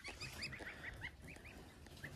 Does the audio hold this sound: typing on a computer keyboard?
no